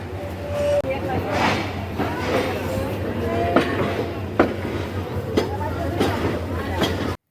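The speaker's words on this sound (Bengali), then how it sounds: "ট্রেনের হর্ন দিয়ে দিয়েছে ট্রেন ছেড়ে দিয়েছে" The Jamalpur Express pulls out of Gafargaon railway station with a low, steady rumble and periodic metallic clanks, mixed with platform chatter and nearby voices.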